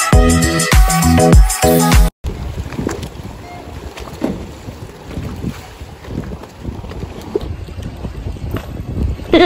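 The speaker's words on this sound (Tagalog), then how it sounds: "nandito tayo sa bangka, magagala tayo." A boat rides on the sea off Montenegro. Loud music plays at first, then gives way to steady wind buffeting and hull and water noise from the moving boat.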